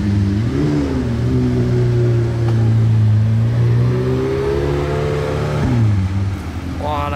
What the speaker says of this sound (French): Ah non c'est une voiture qui sort, ok.